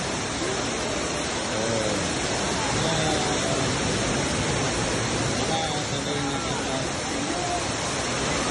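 An indoor waterfall in the Marina Bay mall pours in a dense, even rush of falling water, with faint voices and crowd murmur barely showing beneath it.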